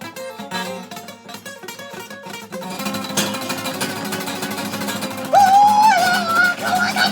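Flamenco guitar strums a few slow chords, then quickens and moves into a picked melody of the familiar ballpark tune, played alone.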